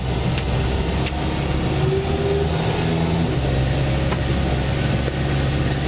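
An all-terrain vehicle's engine drones steadily and loudly from inside the cab while it drives along a road, a low, continuous rumble with a few faint knocks and no talking.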